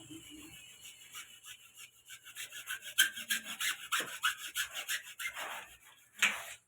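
A hand saw cuts a three-foot length of wood in rhythmic back-and-forth strokes that grow stronger and faster midway, with a brief scrape near the end and faint background sounds.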